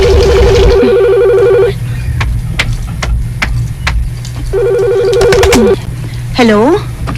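A telephone rings indoors in two bursts of rapid electronic trilling, loud and near, with a rumbling engine and scattered clicks beneath and voices speaking between the rings.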